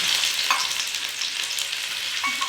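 Ginger and garlic fry with cumin in fully heated oil, a steady close sizzle and crackle running without pause for the whole moment, with a couple of faint utensil scrapes.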